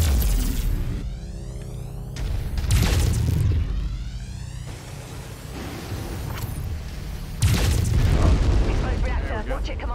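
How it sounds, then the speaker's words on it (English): In the MechWarrior 5 video game, a mech's reactor explodes in heavy booming bursts with a rumbling roar, repeating over several seconds amid game sounds and voices. "Explode reactor."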